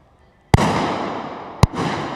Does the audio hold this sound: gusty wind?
no